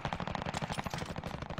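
Rapid automatic gunfire from the video game Warzone, a dense, loud burst of continuous shots with no talking.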